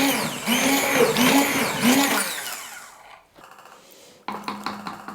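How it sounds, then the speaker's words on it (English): A stick blender whirs loudly in pulsing bursts as it purées soft cooked cauliflower into a smooth sauce, cutting out briefly before starting up again near the end. "So I'm going to grab the stick blender"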